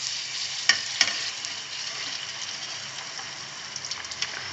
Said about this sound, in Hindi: एक एक पूरी उठाएंगे और इस तरीके से डालेंगे और चमचे से इसको इस तरह डीप कर देंगे ताकि फूल जाए